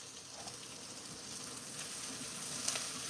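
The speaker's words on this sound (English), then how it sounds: "We'll let them start to saute." Vegetables sauté in a pan for lamb soup, giving a soft, steady sizzle with faint crackles throughout, moderately close and quiet, with no talking.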